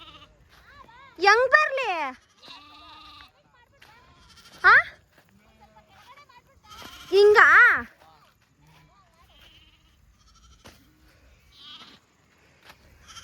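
Goats bleat in a farmyard in short wavering calls, several loud and close bursts spread across the span, with people talking in between and around them.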